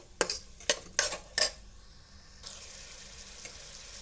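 Garlic and green chili frying in a pan for aloo bhaji, four sharp metal clinks of a spoon against the pan, then a soft steady sizzle that carries on alone.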